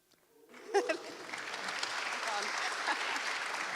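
An audience at the opening of the Future Frontend 2024 conference breaks into applause after brief quiet, swelling quickly into steady, full clapping that continues to the end.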